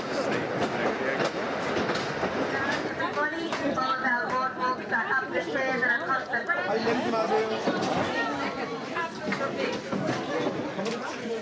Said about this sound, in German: Mit der Scenic Railway, der ehemaligen Förderbahn der Kohlemine, geht es hinunter ins Tal.